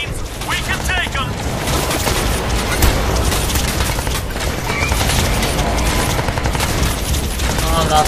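Heavy Crysis 2 firefight with sustained machine-gun bursts, rapid shots and explosions, loud and continuous, while soldiers shout over the combat.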